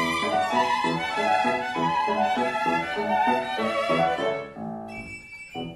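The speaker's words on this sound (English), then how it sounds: "What you are hearing is the piece Navarra for Two Violins" Two Stradivarius violins play Sarasate's Navarra together in a concert duet, with bright, interwoven sustained lines and rhythmic bowing, ending on a held note.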